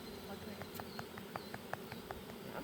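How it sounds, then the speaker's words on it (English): A honey bee swarm buzzes and fans at a cider orchard, a faint, steady hum with scattered louder buzzing bursts as individual bees pass close by, and no clear talking. "see all these bees fanning?"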